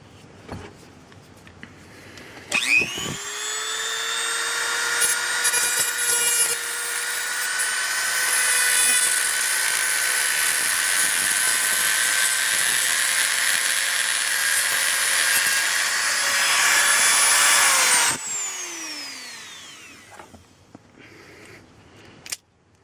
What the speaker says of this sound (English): I'm going to use a Dremel with a grinding bit